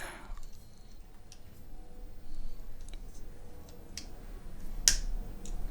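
A single sharp plastic click of a GoPro Hero6 battery door snapping shut near the end, after soft handling noises and faint ticks in a quiet room.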